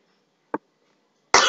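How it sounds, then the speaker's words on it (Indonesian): A single short, soft cough sounds in a quiet room, followed by a brief louder noise at the end. "Batuk."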